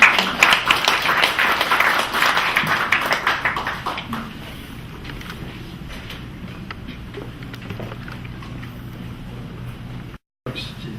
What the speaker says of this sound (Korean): 박수로 청해주시면 감사하겠습니다.